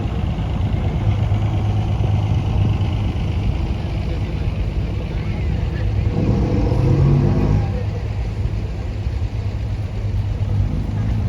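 A vintage vehicle with a Gardner diesel engine runs at a steady, low idle throughout, a deep rumbling drone heard up close at a country show, with a slight swell partway through.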